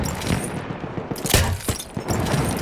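Gunfire in the video game Battlefield 1 crackles in loud, dense bursts with sharp booming shots and rattling automatic fire, close and continuous.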